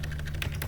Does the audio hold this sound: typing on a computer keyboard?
yes